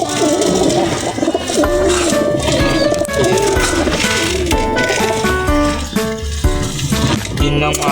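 A large flock of pigeons coos continuously nearby, overlapping soft throaty calls layered with fluttering and shuffling, while a voice speaks faintly in the background.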